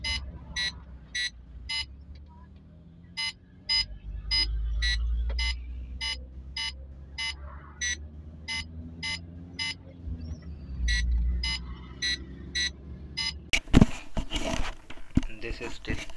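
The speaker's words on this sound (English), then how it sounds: "Let's see now it quick beeps or not." Rapid electronic beeps from engine auto-tune software set to tune every half second, a steady run of short evenly spaced tones over a low engine rumble, ending in a burst of clatter.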